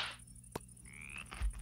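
Frog croaking in the Minecraft video game, a short synthetic croak and a rising chirp over a quiet game background, with a click and a soft thump nearby.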